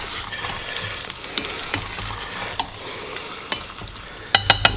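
Creamed peas and mushrooms are stirred in a pan over a soft continuous simmer, with occasional utensil scrapes and a quick run of bright spoon clinks at the end, close and without talk.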